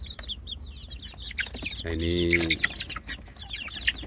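Free-range village chicks peep and cluck close by in a quick, busy chatter while feeding, as a person speaks briefly over them.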